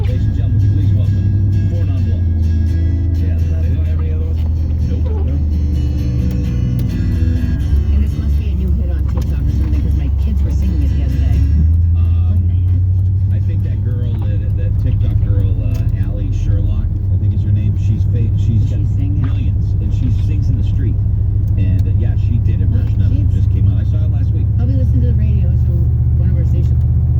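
A snow plow truck pushes through deep snow in a blizzard, its engine a loud, steady low rumble throughout, with people talking over it.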